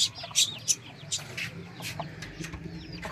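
Hens cluck in short, scattered bursts close by, with a few sharper high-pitched peeps between quieter stretches.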